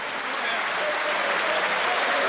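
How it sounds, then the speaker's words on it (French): Spectators at the 2001 Monaco pétanque precision-shooting world championship give a world champion a sustained, dense round of applause, loud and steady throughout with no pauses. "Voilà, tout le monde applaudit."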